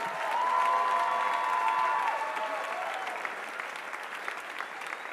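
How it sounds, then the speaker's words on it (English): Sustained audience applause and cheering after a Shag swing dance competition final at Camp Hollywood 2010, a dense, loud, steady clapping from a large crowd that gradually thins toward the end. "how about another big round of applause for all of the competitors?"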